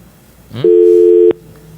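A telephone busy signal on a call-in line: one loud, steady electronic tone lasting about two-thirds of a second, preceded by a brief rising blip, with faint background noise before and after.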